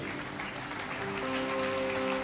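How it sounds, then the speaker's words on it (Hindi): A church congregation claps during a Hindi Christian sermon, a steady wash of applause from a crowd that sounds moderately distant and fills the short moment without any talk over it. "Yeah, you are clapping"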